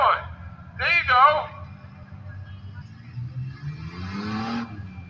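A truck engine revs with rising throttle at a tuff truck competition at a county fair in Dover-Foxcroft, Maine, rumbling low and steady under loud nearby talk.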